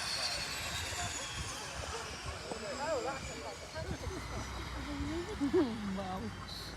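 Aircraft engines wind down after a plane lands, a steady whine and rumble fading under nearby voices talking.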